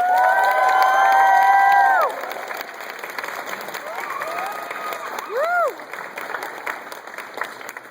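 An audience at a closing dinner applauds and cheers for a student fellow speaker, with sustained clapping, loud whoops and whistles rising at the start, then steadier applause with scattered shouts.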